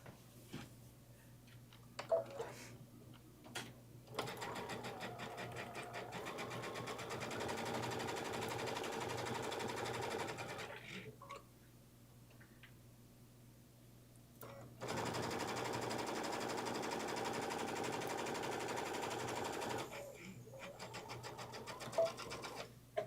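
A sewing machine runs free-motion stitching on a bag project, humming steadily close by in two long sustained runs with short pauses and faint clicks between them, and no talk over it.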